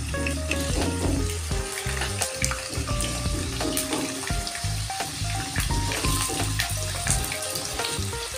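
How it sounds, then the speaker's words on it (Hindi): Potatoes frying on high flame in hot mustard oil for a Bengali fish and potato curry, a loud, dense, continuous crackle and hiss with scattered pops, close and steady throughout, no voices. "तेल गर्म होने के बाद इसमें आलू डाल दूंगी और आलू को फ्राई कर लूँगी।"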